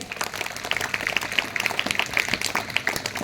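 Audience applause at an inter-school children's gathering in Balrampur, following a school group's performance: dense, steady clapping from a crowd filling the whole stretch at even loudness, without talk over it.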